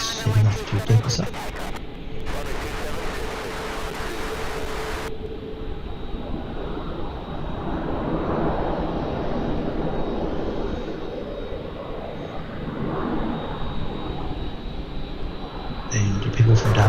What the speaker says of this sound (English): a Virgin 737 Max heading off to Denver